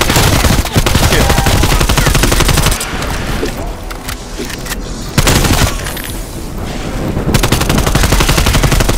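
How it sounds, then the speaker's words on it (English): Flames from a flamethrower in the shooter Call of Duty: Black Ops Cold War roar alongside bursts of rapid gunfire, loud and dense, with two short lulls where the blasting thins out. "Flamethrower."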